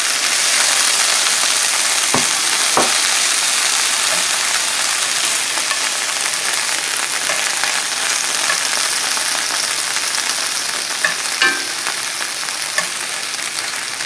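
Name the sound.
vegetables frying and being stirred in a pan with Spam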